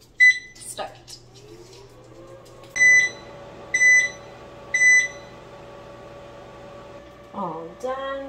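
An Emeril French Door 360 air fryer gives three short, evenly spaced control-panel beeps, then settles into a low, steady running hum, with brief voices near the start and end.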